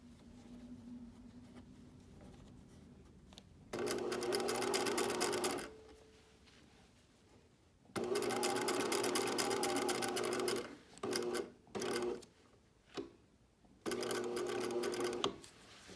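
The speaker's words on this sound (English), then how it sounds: "I'm going to finish sewing right on that apex." Domestic sewing machine stitching through layers of fabric on a Torrens box top, heard in several loud, steady runs of rapid needle clatter separated by pauses and a few short stop-start bursts, close up with no talking.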